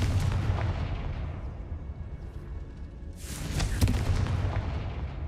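A Confringo blasting spell explodes in Hogwarts Legacy inside an old closed mine: a rumbling, booming blast that fades, then a second sharp burst with a crackling roar, loud and close, with no voices.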